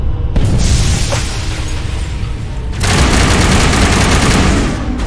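Gunfire in a Mass Effect video game battle: loud, dense volleys mixed with booms that carry through the whole stretch, easing briefly before another heavy burst.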